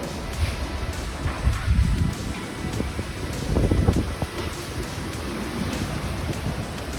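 Strong typhoon wind during Typhoon Odette in Cebu roars and buffets steadily for the whole stretch, swelling into louder gusts with broadband rumble and microphone wind noise, with no voices.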